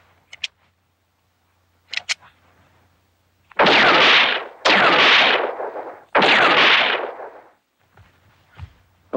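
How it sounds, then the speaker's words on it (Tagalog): A handgun is test fired in a Filipino action film, with a few faint clicks and taps followed by three loud, booming shots in quick succession and a softer thump afterward. "Okay itong baril mo, Nino."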